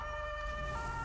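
A police siren wails in GTA V with the LSPDFR mod, steady and sustained tones holding through the moment at fairly low volume, with faint road and engine noise underneath and no talking.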